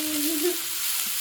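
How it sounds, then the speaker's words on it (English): Okra frying in a pan while it is stirred gently, giving a brief, steady close sizzle with a faint tonal whine underneath and no voices. "We'll give a gentle stir."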